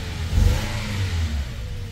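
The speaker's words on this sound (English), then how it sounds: "So it might run a little rougher right now because it has air in the system." The engine of a Toyota Tacoma from the 2005–2014 generation runs rough and misfires after a fuel pump replacement, giving a short, uneven low rumble that swells and dips.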